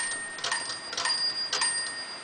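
The bell of a 1924 Underwood No 3 desktop typewriter rings three times at a steady pace, each a thin metallic ding that rings on briefly, close and fairly quiet.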